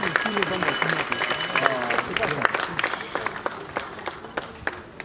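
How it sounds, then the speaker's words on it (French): A crowd at a funeral wake claps and cheers loudly and steadily throughout, with voices mixed into the noise. "Est-ce que vous pouvez applaudir très très fort"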